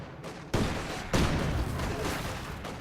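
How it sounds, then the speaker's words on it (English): Rifle grenade blasts and Maxim machine gun fire during a World War I strategy game battle, two sharp bursts launching into a sustained, dense clatter of shots and explosions that fills the whole stretch. "Ciez is going to take them all on with a couple of Maxims. On, spin them. Here comes the rifle nades."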